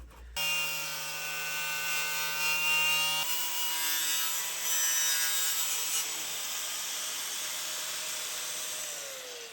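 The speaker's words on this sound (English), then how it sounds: "we're going to use a knot wheel on a grinder and we're going to take all this back to some bare metal" An angle grinder fitted with a knot wheel strips a repaired car panel back to bare metal, giving a loud, steady, whining grind that holds on continuously with slight shifts in pitch, and no one speaks.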